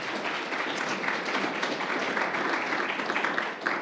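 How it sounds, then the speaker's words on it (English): An audience at a startup showcase event claps in a continuous, dense round of applause at steady moderate loudness, with no clear voices over it. "Let's give them a round of applause"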